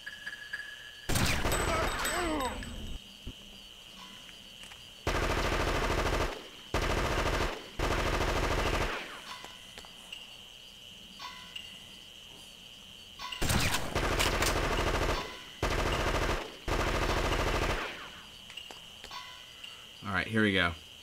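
Bursts of automatic gunfire from the Fear Effect video game, several loud rapid volleys lasting about a second or two each, separated by pauses filled with a quieter droning background, close and dominant.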